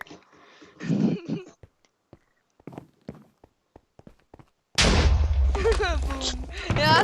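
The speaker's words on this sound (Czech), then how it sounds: "Já samý výbuchy slyším nic víc." Explosions in the Minecraft video game come as a loud, sustained blast that ends the clip, after scattered sharp in-game clicks, hits and a voice near the start.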